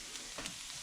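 Chorizo sizzles in melted butter in a pan, a steady soft frying hiss that stays even and fairly quiet throughout, with no talking.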